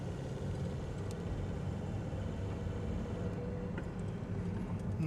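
A Toyota Matrix XR from the 2003–2008 years drives around the block, its engine and road rumble heard steadily from inside the cabin, low and even with no clear gear change.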